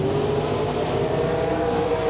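A dragster at a bracket race roars down the drag strip, a loud, steady, close engine blast sustained without a break and with no voices over it.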